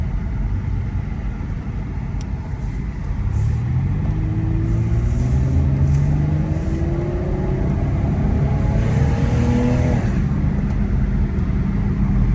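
An old school car drives along under steady engine rumble, its rising engine tones dropping and climbing again as it shifts up through the gears, close and loud throughout with no talk.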